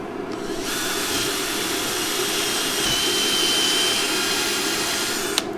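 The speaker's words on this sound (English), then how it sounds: "you're just going to drill 4 holes right up the middle" A power drill bores holes up the middle of a steel-reinforced sled ski, a loud continuous whirring grind that runs steadily for several seconds before cutting off.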